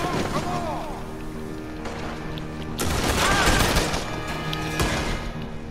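Gunfire rattles in Red Dead Redemption 2, a Western video game, with bursts of shots and crackling volleys growing louder midway, mixed with other game sounds.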